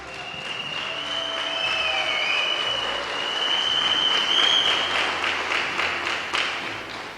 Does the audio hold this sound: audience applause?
yes